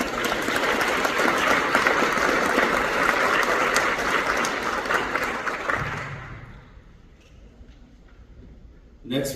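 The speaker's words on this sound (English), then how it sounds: "we need to give them a huge round of applause" An outdoor audience at a V-J Day ceremony honoring veterans claps in a loud, sustained round of applause that fades out over several seconds, leaving a quieter background.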